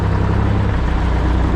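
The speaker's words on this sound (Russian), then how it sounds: "Вот сейчас только запустил мотор" A Ural logging truck engine, just started, runs at a steady low idle, a deep, even rumble with a regular throb, loud and close.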